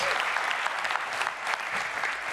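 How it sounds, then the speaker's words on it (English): Keynote audience at a B2B account experience event breaks into loud, dense applause, a continuous close wash of many hands clapping throughout. "So just a big hand of applause for Camilla and the team for putting this sh"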